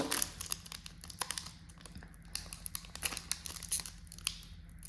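Sealed Pokémon Mega Kangaskhan EX collection box packaging being torn and crinkled open, a close run of sharp rips and papery crackles in irregular bursts, with no talking.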